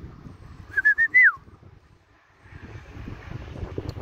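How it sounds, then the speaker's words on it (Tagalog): A maya sparrow calls at dawn with four quick, loud chirps close together, then leaves a quiet outdoor background. "Maya yan guys, nandito na yan siya."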